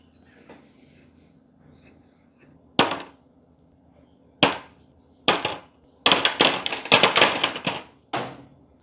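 Flathead screws being worked out of a steel frame on a 1960s Laminex farm kitchen table, heard as sharp metallic knocks and clatters, single hits at first and then a quick cluster, close and fairly loud against a quiet background.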